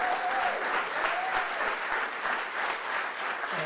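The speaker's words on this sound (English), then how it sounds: "Let's have a huge applause for Howard." A room full of people applauds photographer Howard Schatz at a New York gathering, a steady, dense wash of clapping that holds evenly throughout without voices on top.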